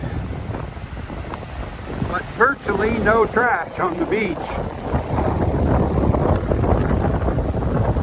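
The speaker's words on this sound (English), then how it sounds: "A lot of waves and a lot of wind" Waves and strong wind roll across Turtle Beach, a steady broadband roar and gusting rush that continues under someone speaking close to the microphone.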